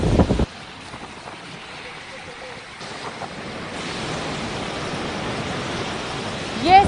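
Strong winds from Cyclone Nisarga roar across the Maharashtra coast, a steady broadband rush of gusting air and surf noise that builds and thickens over the seconds, with a brief louder burst at the start and end.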